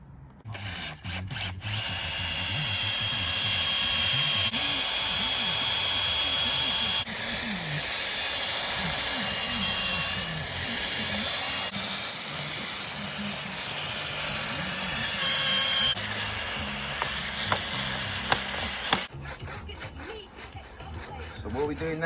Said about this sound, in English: We're cutting out the notches